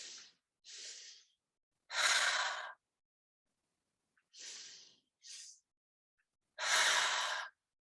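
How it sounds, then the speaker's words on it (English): Slow, deep breathing during a mindfulness exercise: separate airy inhales and longer, louder exhales, each followed by a pause, close and clear with no talking. "Inhale, inhale, exhale."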